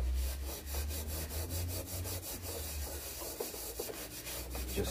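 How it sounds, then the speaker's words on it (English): Fine-grade wire wool soaked in WD-40 rubbed over metal on a vintage scooter being restored, a steady rhythmic scrubbing with repeated back-and-forth strokes, close and continuous with no talk. "So this is fine grade wire wool, and what I'm doing is using WD-40"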